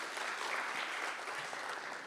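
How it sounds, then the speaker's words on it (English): Audience applause at an economic summit, a steady wash of many hands clapping at a fairly faint level throughout, with no talk over it. "You can give him a round of applause."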